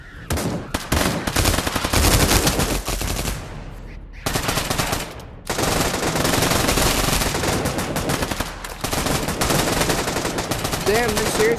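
Rapid automatic gunfire in the Pavlov VR zombie mode on Oculus Quest, loud dense bursts filling most of the span with a brief lull midway, then firing resumes steadily.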